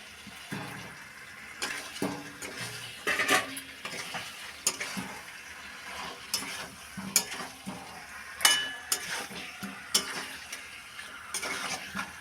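Fried potatoes stirred into a thick chicken curry in a pot: repeated scraping and clinking spoon strokes over a low, continuous sizzle, close and moderately loud, with no talking.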